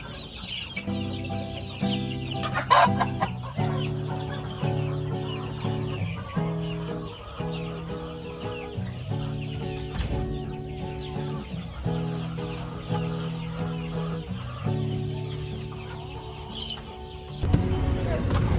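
A flock of chickens on a backyard poultry farm of about 300 birds clucks and calls continuously, close and fairly loud, with a rooster-like crow and faint human voices in the background.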